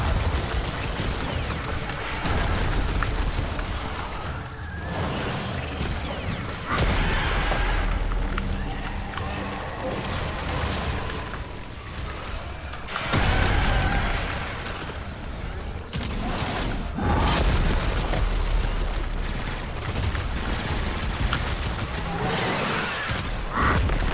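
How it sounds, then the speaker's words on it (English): Enemy explosion attacks in the video game Warframe go off as repeated booms and crackling blasts over dense, continuous combat noise, with players talking now and then under the din. "Like that explosion thingy that it's doing, that's definitely new"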